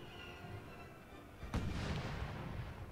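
Cannon artillery fires once in Napoleon Total War, a single boom midway through the clip against a low battlefield murmur, fairly distant and faint.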